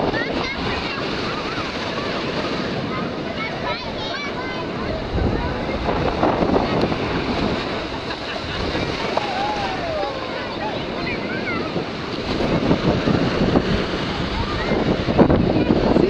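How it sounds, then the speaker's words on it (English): Atlantic Ocean surf rolls onto the beach at Seaside Heights as a steady broadband wash with wind buffeting the microphone, while people's voices murmur over it. "Atlantic Ocean."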